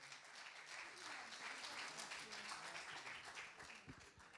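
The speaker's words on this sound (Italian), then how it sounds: "lo accompagniamo con l'applauso del pubblico" Steady audience applause rolls through an awards show for a televised football penalty competition, a dense, even patter of clapping at moderate distance with a faint voice underneath.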